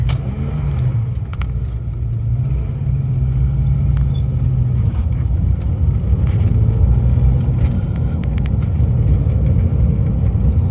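A Fox-platform car driving on a rough road during a test drive after repairs, heard from inside. A steady engine hum and low road rumble continue throughout with no talking.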